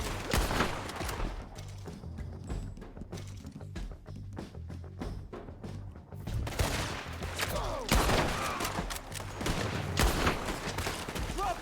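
Shootouts in Red Dead Redemption 2 crackle with scattered, sharp gunshots, some near and some distant, over steady game noise.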